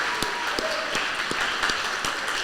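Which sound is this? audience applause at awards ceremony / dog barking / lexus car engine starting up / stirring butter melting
audience applause at awards ceremony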